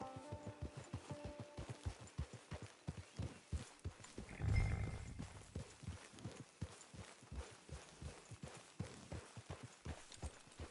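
A horse in an online Western video game clip-clops along at a steady walking pace, hooves loud and close, with a brief snort or whinny midway and ambient range sounds underneath.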